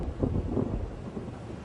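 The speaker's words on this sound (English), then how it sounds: "A thunderstorm?" A thunderstorm rumbles low and steady for a moment with a soft wash of rain or wind behind it and no clear crack of thunder.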